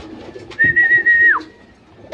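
A single pigeon gives a short, clear coo close by in a loft, a brief sustained note that bends downward at its end, with faint rustling and background noise around it.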